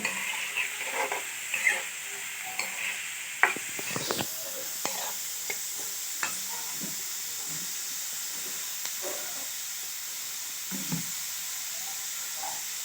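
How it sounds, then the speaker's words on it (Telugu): Sliced onions frying in a pan for a drumstick and raw shrimp curry, stirred with a spoon: a steady loud sizzle and hiss with scraping stir strokes and clatters early on, no talking. "వేసుకున్న ఉల్లిపాయలను ఒకసారి కలుపుకోవాలి"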